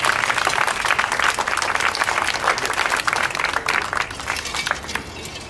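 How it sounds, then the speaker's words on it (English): Luncheon audience at the ABA annual national meeting breaks into applause, dense steady clapping from a large room that carries throughout and eases slightly toward the end. "You can applaud"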